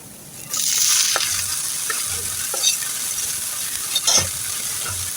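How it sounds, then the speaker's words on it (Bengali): Onion and garlic fry in a pan until brown, a steady hissing sizzle that starts abruptly and holds, with a few spoon clicks and stirring scrapes breaking through. "পেঁয়াজ আর রসুনটা আমি ব্রাউন কালার করে ভেজে নেব"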